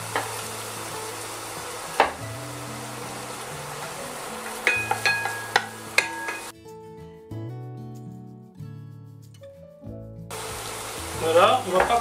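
Shallots cooking gently in a pan on the stove, with a soft, steady sizzle that stays low and mild, broken by spoon stirring and a few utensil knocks on the pan, and a brief quiet stretch in the middle.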